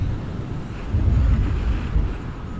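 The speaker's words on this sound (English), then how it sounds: "Well, it sounds like a lot of wind." Steady low wind roar buffets inside a motorcycle helmet while riding a Triumph Street Triple R, a dense rumbling rush that swells slightly midway, loud and close with no voices.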